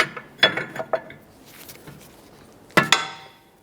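A 1 1/16 inch wrench works a jam nut loose on the outer tie rod of a 2011-2020 Toyota Sienna, giving a few sharp metallic clicks and knocks in two short clusters with quiet gaps between them.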